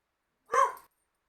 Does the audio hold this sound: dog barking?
yes